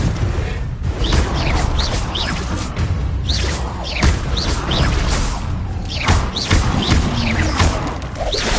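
Fire spell Confringo cast during combat in the video game Hogwarts Legacy, a dense stream of whooshes, thuds and crackling impacts with bursts around four and six seconds, loud and continuous with no clear pauses.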